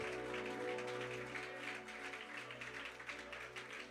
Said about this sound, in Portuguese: Pode dar uma salva de palmas bem forte para o Senhor